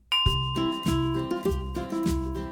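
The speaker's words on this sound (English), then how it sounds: "Would you ring the bell for us?" A bell rung live during a radio interview, struck about five times in a steady rhythm roughly every half second, each stroke a loud, bright clang with long ringing overtones that sustain and overlap between hits.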